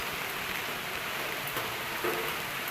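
Steady rain falls in the forest near Athirapally waterfalls, a constant even hiss of drops on foliage and ground with no pauses.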